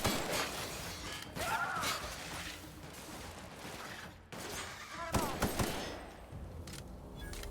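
Gunfire during a firefight in The Outer Worlds, loud shots and crackling bursts recurring over several seconds, mixed with impact noises and a player's voice talking under the action.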